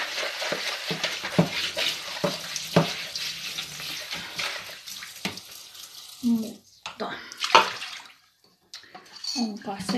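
Dishes being washed by hand in a sink, with running water splashing alongside irregular clinks and knocks of crockery at close range, while a person talks over much of it.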